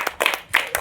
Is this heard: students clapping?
yes